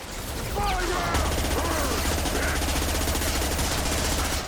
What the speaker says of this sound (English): Hold still when I'm shooting at you.